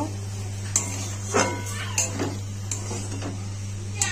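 A spoon stirs food with turmeric powder in a cooking pot, making a handful of sharp metallic clinks and scrapes at irregular intervals over a constant low hum.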